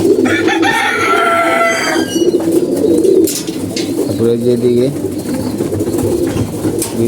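Pigeons coo in low, throaty, rolling calls close by, while someone talks over them and other birds chatter in the background.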